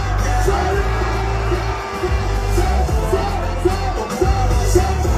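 A large crowd at a campaign rally in Gabon cheers and yells steadily as the transitional president dances, a dense, loud roar of voices with rhythmic music pulsing beneath.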